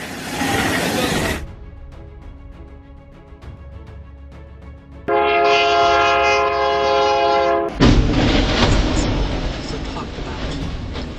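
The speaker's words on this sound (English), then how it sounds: "the train is just following its schedule" A train roars past close by with its horn blaring in long sustained blasts, rumbling wheels and wind noise underneath, loud throughout.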